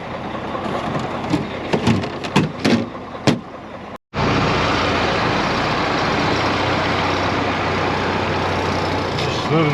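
A semi truck's engine starts and runs loudly and steadily at close range after a few seconds of knocks and clunks, with some talk before it.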